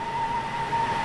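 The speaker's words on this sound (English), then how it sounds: "Oh, that's a train." A Class 455 electric train in the Grand Continental Railways video game gives a steady, sustained whistling whine over a continuous rumble, with no talk.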